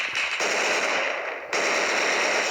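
Dense, rapid gunfire in the Roblox game Lost Front rattles continuously, loud and close, with a brief dip before resuming at full intensity.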